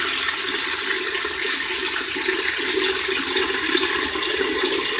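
Top-loading washing machine drum filling with water, a steady, loud rushing and splashing that holds without a break throughout.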